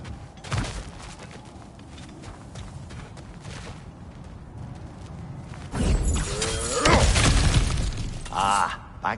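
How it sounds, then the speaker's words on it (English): Objects break apart in God of War Ragnarök: a sharp crash near the start, then a loud cluster of shattering and crunching debris later on. "Back to smashing through things for fun and profit."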